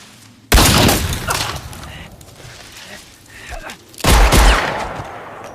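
Gunfire in a French-language thriller film, loud bursts in two clusters, the first around half a second in and the second near four seconds, with a rumbling tail between them.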